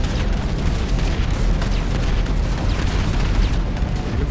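A train blows up in the video game GTA V, with a dense, continuous roar of explosion rumble and blasts that is loud and sustained, with no talk over it.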